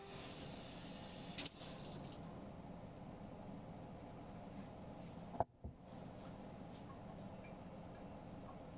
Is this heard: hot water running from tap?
yes